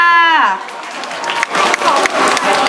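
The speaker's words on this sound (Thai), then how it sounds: "ขอเสียงปรบมือหน่อยค่ะ" A crowd applauds at a lively shopping-mall promotional event in Rayong, Thailand. A voice rings out briefly first, then loud, dense clapping swells and carries on, close and full.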